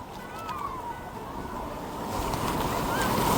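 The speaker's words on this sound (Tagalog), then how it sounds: "kita niyo mga alon, oh. Ang taas, oh." Continuous roar of high ocean waves washing onto a beach at Nasugbu, Batangas, swelling louder toward the end, with faint wind and a few thin tonal squeaks.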